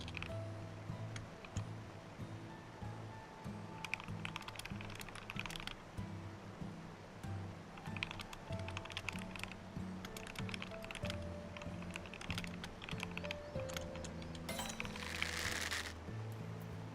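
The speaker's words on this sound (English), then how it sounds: "I'll probably be doing a lot more typing than anything, so I'll probably do it like this so you guys can hear my tippy typing" Steady typing on a computer keyboard, a continuous patter of soft key clicks with occasional denser bursts and a louder clack near the end, close and unaccompanied by talk.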